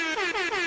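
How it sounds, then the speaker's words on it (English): A loud, blaring air horn sounds in three quick repeated blasts, each with a rich, buzzing harmonic tone. "I don't know if you knew about the air horn."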